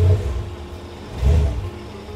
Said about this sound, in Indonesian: kita start di engine. Rumble V8-nya ya.